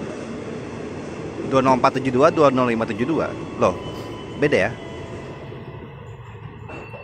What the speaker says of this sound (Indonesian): Berangkat dari jalur 2 Stasiun Cawang, komuter lain tujuan Bogor.